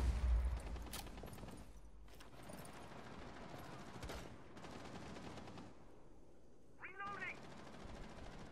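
Gunfire in Rainbow Six Siege, with long rattling bursts of automatic fire broken by short gaps and a brief high squeal near the end, heard up close at moderate level.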